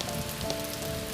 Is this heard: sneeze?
no